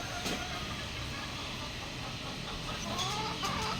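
Chicks in a backyard pen give faint, scattered peeps over a constant hiss of background noise, with a brief run of chirps near the end.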